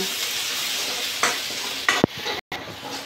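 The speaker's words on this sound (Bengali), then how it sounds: "এই যে তেলে একটু ভেজে নিচ্ছে" Food being fried in oil for a clear soup, a steady broadband sizzle with stirring scrapes and a couple of sharper clinks near the end, close and continuous without talk.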